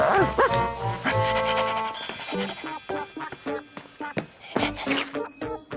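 A cartoon dog, Odie from Garfield, barks and yips in quick uneven bursts, loud and close, mixed with clinking and brief whimpers.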